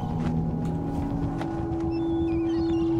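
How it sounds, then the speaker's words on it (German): Tense ambient game music in Dishonored, with sustained tones and a wavering, plucked guitar-like line running steadily underneath, with no voices. "Hört ihr das mit der Gitarre?"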